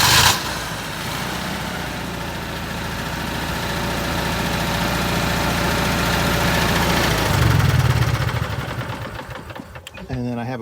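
Home generator running with a steady mid-pitched engine drone and vibration that swells slightly, then cuts off near the end, with a person talking over it.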